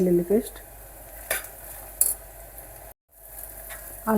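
Onions with ginger garlic paste are stirred in a pan for a tomato curry, with a few soft scrapes and light metal clinks against a faint, quiet sizzle and a brief dropout midway.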